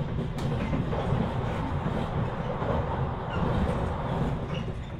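Jakatingkir passenger train passing through a station, a steady loud rumble of wheels and carriages with faint rhythmic rail clatter, continuous and close throughout, with no talking.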